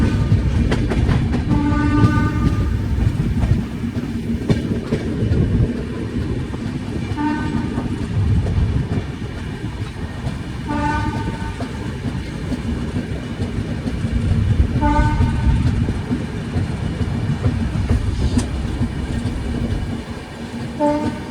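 A Jaynagar-Amritsar Humsafar train runs toward Rohtak, with a steady loud rumble, rhythmic clickety-clack from the wheels and repeated short horn tones that come in several bursts through the ride.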